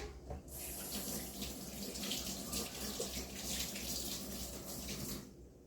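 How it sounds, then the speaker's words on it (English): Hands are washed under a running kitchen tap, a steady rushing stream of water hitting the sink that starts abruptly, holds at an even level for several seconds, then cuts off. "let me wash my hands off here"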